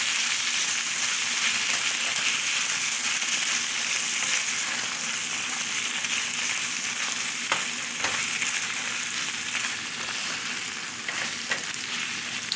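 Italian sausage sizzles steadily in a hot pan for the whole stretch, with a few soft scrapes and knocks as it is stirred, close and fairly loud with no talking.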